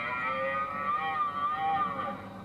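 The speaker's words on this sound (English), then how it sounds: "The sound you just hear then was a roar for the challenge of other deer to tell them to stay away." A red deer stag roars during the October rut, a drawn-out, wavering bellow that rises and falls for a couple of seconds, moderately loud over a low outdoor rumble.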